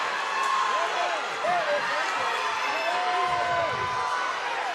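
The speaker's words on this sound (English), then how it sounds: "If you can hear the crowd noise" Crowd noise fills a wrestling tournament hall at an Iowa Class 2A district event, a dense murmur of many voices with scattered shouts rising and falling, heard at moderate loudness.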